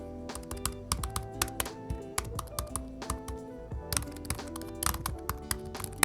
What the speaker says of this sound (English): I've got the infamous butterfly keyboard that basically failed on most of the laptops to begin with